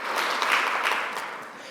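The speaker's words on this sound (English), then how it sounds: "Let's give them a round of applause as well" An audience applauds student entrepreneurs at a youth entrepreneurship challenge, a dense, steady wash of clapping that fades slightly toward the end.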